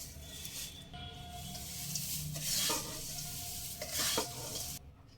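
Flattened rice (poha) being gently tossed and stirred in a pan for an oil-free crispy snack, a soft continuous rustling sizzle with light scraping, close and fairly quiet.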